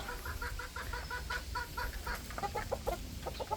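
Several chickens, hens and chicks, cluck and call in short repeated bursts over a low rumbling background, with a rooster among them, fairly close and steady throughout.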